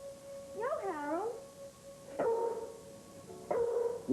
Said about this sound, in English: What's with the dog?